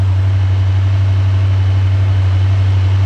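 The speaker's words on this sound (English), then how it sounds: "It's now pulling the fuel from the fuel line through the carburetor, just like a conventional internal combustion engine." A hydrogen-powered V8 engine drawing fuel through a carburetor runs at a steady idle, a loud, constant low drone with an even pulsing texture and no talk.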